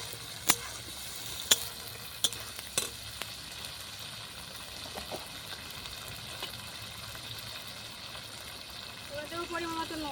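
Ginger garlic paste sizzles in oil with onions and prawns over a clay stove, giving a soft, steady frying hiss punctuated by several sharp clacks of a spoon on the pan early on.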